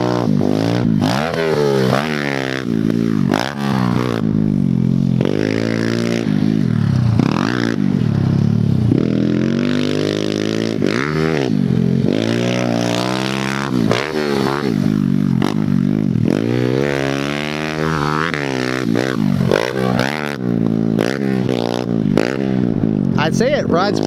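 Fuel-injected Kawasaki KLX110 dirt bike ridden in runs, its engine revving up and down in repeated rising and falling sweeps, loud and close throughout, with talk over it.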